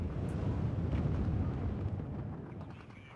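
Smoke shells lobbed over a command vehicle in the WARNO war game roll in as a dense, continuous low rumble of artillery bursts, heavy in the bass and slowly tapering off.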